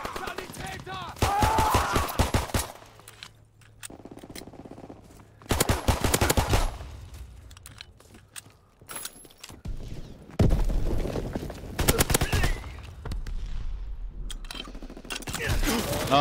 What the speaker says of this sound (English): I gotta get used to the sniping in this game.